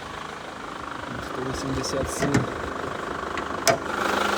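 A Chevrolet Captiva 4x4 2.2 diesel engine idles with a steady low rumble and faint clatter, while someone speaks briefly over it.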